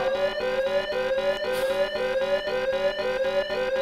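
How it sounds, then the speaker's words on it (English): A high level alarm on the JT flash drum of an oil platform sounds loudly and steadily, a repeating electronic tone pulsing about three times per second with no voices. "JT flash drum. High level alarm."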